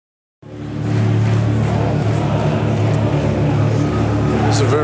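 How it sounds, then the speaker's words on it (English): A low, steady white-noise drone fills a football stadium at a Swansea City versus Millwall match, starting abruptly and holding at a constant loud level throughout. "It's a very strange kind of white noise, low note being played around the stadium"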